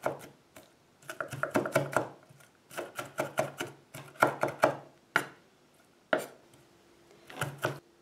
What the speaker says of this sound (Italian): Per la cipolla la dobbiamo tagliare in questo modo,